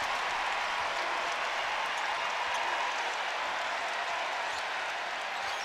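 A basketball arena crowd at a Kentucky versus Bellarmine game roars in a broad, steady wash of cheering and clapping, sustained and loud throughout.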